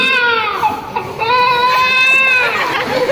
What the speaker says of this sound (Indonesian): Barusan ini aku mendengar suara tangisan bayi.